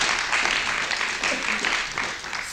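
A crowd at a district HD6 political meeting applauds the new HD6 leadership, a steady wash of clapping heard under a voice talking throughout.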